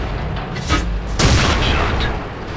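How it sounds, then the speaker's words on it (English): Heavy tank cannon fire in a World of Tanks clan battle, a few deep booming shots with rumbling tails over constant engine and battle noise, loud and close. "Gunshot."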